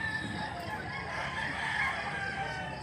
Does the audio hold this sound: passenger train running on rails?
no